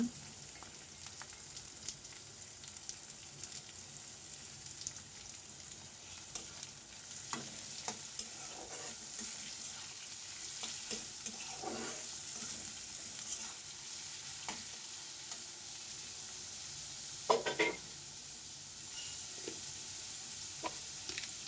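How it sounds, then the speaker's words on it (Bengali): Carrots fry with onion in a pan, a soft ongoing sizzle broken by repeated spatula scrapes and stirring knocks, with one louder clatter late on. "এখন গাজর ভেজে নেবো"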